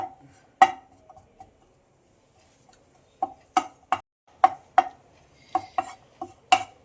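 Spices dry roasting in a pan without oil for pepper rasam powder, a close series of sharp metallic clinks and taps from a utensil scraping and stirring, sparse at first and then quicker, with no voices.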